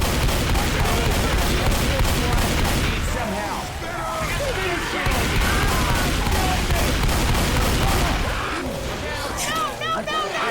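Dense, continuous gunfire from Left 4 Dead 2 during a survival co-op round at a gun store, rapid overlapping bursts with frequent shouting voices over the shooting.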